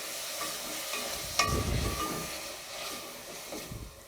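Tomatoes tipped into frying masala in a pan for masala bhindi, a brief hiss and clatter near the start followed by a soft, steady sizzle underneath.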